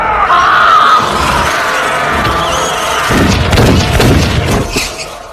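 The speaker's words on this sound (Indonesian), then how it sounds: "Beruntung Kyle berhasil menembak si nenek dengan pistolnya" A pistol gunshot in a dramatic film scene rings out amid crashing, booming action and loud surrounding noise, with several sharp impacts clustered in the second half.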